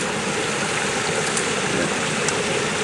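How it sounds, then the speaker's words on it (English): A small stream supplying water to a farm in St Thomas, Jamaica, flows with a continuous close broadband rush and gurgle, steady and fairly loud with no voices. "This supplies the entire farm's water. This little stream here."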